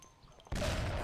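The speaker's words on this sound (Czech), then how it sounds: "tady se střílí" Gunfire in the video game Mafia: after a quiet half second, a sudden loud burst of rapid shots erupts and continues as a dense, close fusillade.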